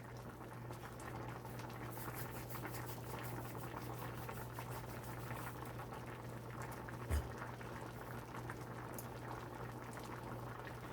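Jamaican Ital vegetarian stew peas with spinner dumplings bubbling steadily in a pot, a continuous soft simmer heard close and alone, with one brief knock partway through.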